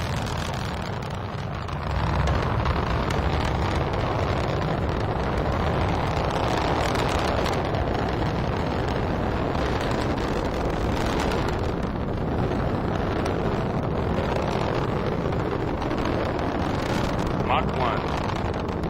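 Rocket roar from a Delta IV launch vehicle carrying a GPS-IIF satellite during ascent, a loud continuous broadband rumble filling the whole span alongside a faint narrator's voice.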